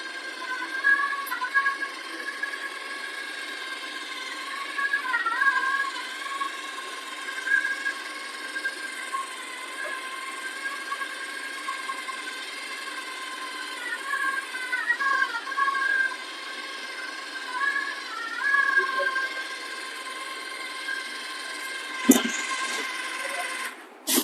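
Battery-powered motor of a ceiling fan dust catcher brush with an umbrella-style collector, running as a steady high-pitched whine at a constant level for the whole stretch, with a single sharp click near the end and no voices.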